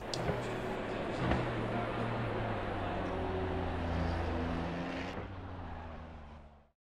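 A race car engine droning steadily in a racing video game at the Nürburgring, a sustained whining tone with slight pitch shifts before fading out quietly at the end.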